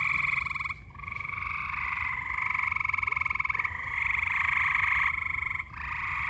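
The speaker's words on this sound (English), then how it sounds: "If anyone is looking for some audio of frogs chirping, here you go." Frogs croak and chirp in a dense, continuous chorus near a backyard pond on a summer evening, with brief pauses between bursts, close and fairly loud.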